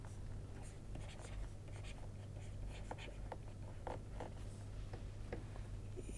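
Equations being written out during a lecture make a quiet scratching of pen or chalk, with short strokes and taps over a steady low room hum and no speech.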